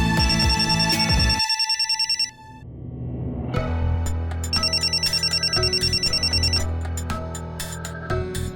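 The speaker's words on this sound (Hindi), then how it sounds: "किसका फोन आया है?" A telephone rings repeatedly in bright, even bursts, starting loud, pausing briefly, then ringing again steadily with music-like tones underneath.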